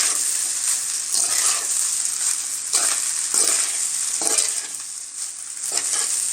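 Cooked rice is stirred into fried egg in a hot pan for egg rice, a constant loud sizzle with repeated rhythmic scraping sweeps of a spatula, about one every second.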